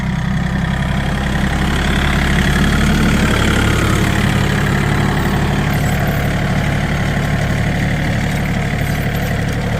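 Engine of a corn seed planter machine running steadily outdoors in a field, a loud, constant low chugging drone that fills the whole stretch without pause or talk.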